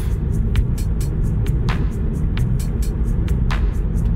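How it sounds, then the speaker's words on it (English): A Hyundai Ioniq Electric accelerates slowly on the road, giving a steady low rumble of tyres and road noise with regular faint ticking clicks on top; no one speaks. "Like I said, I'm accelerating slowly."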